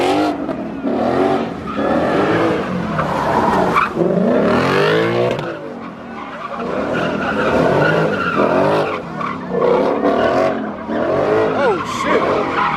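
Car at a street takeover in an Atlanta pit, scraping and skidding on a bare rim after losing its tire, with loud engine revving, sweeping squeals and grinding that surge and fade repeatedly under a crowd's shouting.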